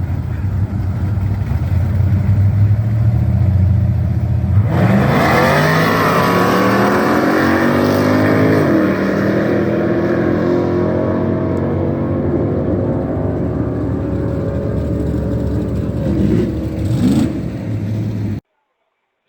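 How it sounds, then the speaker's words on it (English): A nitrous-fed LS-powered Impala drag races a naturally aspirated small-block Chevy 1980 Trans Am at a track; loud, sustained engine roar climbs and shifts through gears for about fourteen seconds, then cuts off abruptly. "Nitrous LS Impala against a small block Chevy 80 Trans Am on motor."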